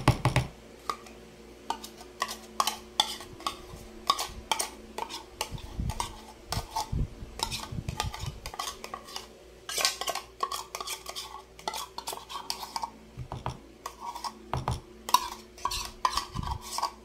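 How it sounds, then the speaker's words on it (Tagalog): A spoon stirs condensed milk into a gelatin mixture in a bowl, giving quiet scraping and clinking against the dish in an irregular rhythm, close by and with no talk. "Haluin lang po ng maigi."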